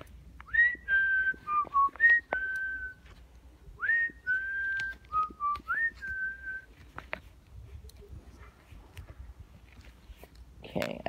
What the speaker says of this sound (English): I whistled 3 times.